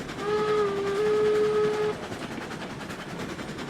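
A steam locomotive whistle in the video game RailRoads Online gives one long, loud steady blast of a little under two seconds, then cuts off, leaving the train's rumbling run going on.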